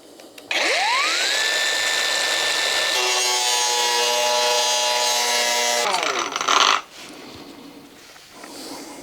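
A power tool, likely an angle grinder, cutting off a metal part on a Citroën BX: a whine that spins up, then a loud steady cut of about five seconds with a tone drop near the end, winding down to quiet.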